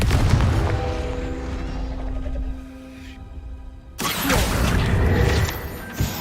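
Confringo spell blast in Hogwarts Legacy: booming impacts with a tonal ringing tail, then a sharp cut to another loud burst of crashing noise and a brief thump near the end.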